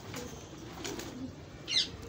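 Faint, low cooing of a caught zeera pigeon in the evening over a quiet background hum, with a brief flutter-like burst near the end.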